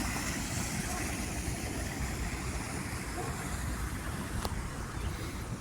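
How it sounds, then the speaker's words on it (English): A small man-made waterfall where the Upele stream is diverted beneath a road and factory area in Lentvaris, Lithuania, gives off a steady, loud, broadband rush of falling water that continues unbroken throughout. "At the bottom of the stairs, we have ourselves a nice little waterfall, man-made."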